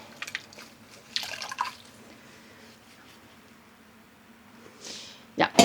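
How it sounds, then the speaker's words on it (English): Dyed yarn skeins are rinsed in a tub of water, with intermittent splashes, drips and squelching sloshes, including a louder wet burst at the end, against quiet background. "I'm definitely going to be rinsing this at least once more"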